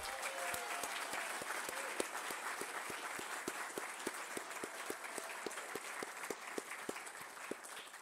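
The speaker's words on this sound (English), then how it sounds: "So, big round of applause for Lupe." An audience at a staff awards ceremony applauds an award winner, a dense, sustained round of clapping from many hands with a few sharper individual claps standing out in a steady rhythm.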